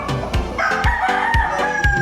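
Chickens crow and cluck nearby, with a rooster's call rising over a busy flock, loud and continuous throughout.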